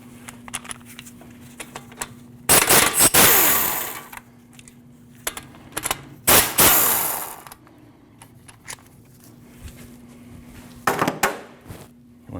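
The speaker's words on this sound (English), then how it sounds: "Next step, what you want to do is you take these 2 14mm slide pin bolts out." A power tool spins out the two 14mm brake caliper slide pin bolts on a Jeep Cherokee, with three loud bursts of several seconds each. A low steady hum runs between them.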